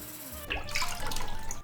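Dried chickpeas are rinsed under a running tap, a steady splashing water stream starting after a brief quiet moment and continuing close and fairly loud with bubbling, sloshing texture.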